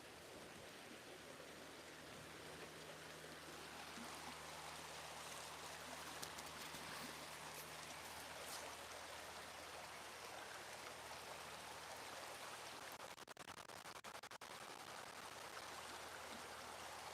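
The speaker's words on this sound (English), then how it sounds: "Let's go listen to the river a little bit." A river flowing through a canyon makes a steady, broad rush of water that holds at an even level throughout, with a few faint clicks late on.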